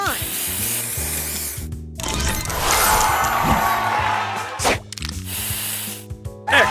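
The spray booster effect in the Match Masters tile-matching game gives a hissing, sizzling burst with crashing sparkle over a looping game soundtrack, followed by short game sound effects.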